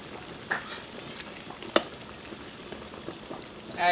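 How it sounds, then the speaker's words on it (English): A pot of kidney with ketchup simmers Jamaican style, giving a faint, steady bubbling hiss with sparse soft pops and one sharper tick, quiet and close with no voices. "the kidney as it continues to simmer."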